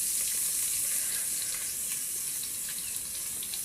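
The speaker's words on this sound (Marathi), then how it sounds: "आपण थोडं तेल टाकून परत परतू" Onion sizzles in hot oil in a pan while cooking a village-style mutton curry, a steady, close, bright hiss that runs unbroken with no voices.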